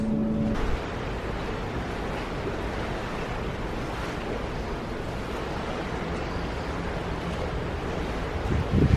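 Ocean waves and wind far out at sea, a constant broadband wash of surf with microphone wind buffeting, steady and fairly loud throughout with no talking.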